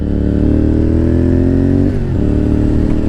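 A motorcycle engine roars loud and close under steady throttle, its pitch climbing gradually before a brief dip and recovery, with no talk over it.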